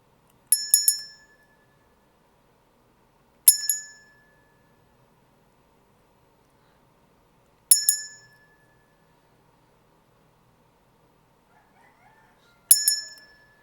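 A bright bicycle-style bell rings four times at uneven intervals, each ring a sharp metallic ding fading quickly into near silence between strikes; the first ring comes as a quick double.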